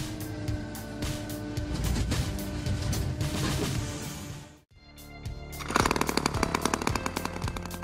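A loud, rough mechanical buzzing with rapid rattling pulses, cutting out briefly halfway before starting up again, as the chainsaw of an automatic firewood processing machine cuts logs.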